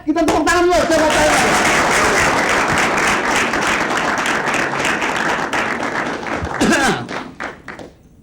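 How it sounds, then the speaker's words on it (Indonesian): An audience bursts into applause at a comedy show, loud and dense clapping that runs steadily before thinning out into a few scattered claps, with brief voices at the start and near the end. "Kita tepuk tangan dulu"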